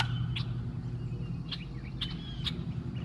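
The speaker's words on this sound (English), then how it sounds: "Friggin' blackbird's nest is all the way over there, and he's still over here harassing me." A blackbird near its nest gives a few short sharp chirps, spaced unevenly across a low outdoor rumble near high water, moderately close and without speech.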